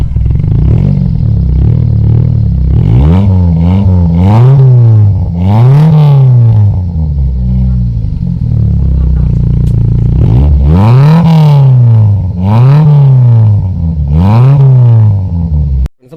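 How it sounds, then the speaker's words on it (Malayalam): A modified Maruti Zen car's exhaust roars through a series of loud, close revs, each rising and then falling back. The pattern repeats in clusters with brief idle gaps between them, and no one speaks. "പിന്നെ നമുക്ക് ഇതിൻ്റെ എക്സോസ്റ്റിൻ്റെ സൗണ്ട് ഒന്ന് കേൾക്കാം."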